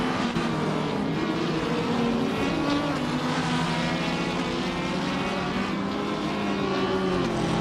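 A BMW 320 Si race car engine in a racing video game drones steadily, with other cars droning alongside it. The engine note is loud and continuous throughout, and no one talks over it.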